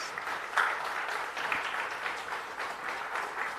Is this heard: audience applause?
yes